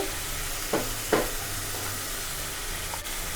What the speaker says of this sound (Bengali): মশলা ভাজা হয়ে গিয়েছে। এবার আমি হলুদ, মরিচ, লবণ দিয়ে দিচ্ছি।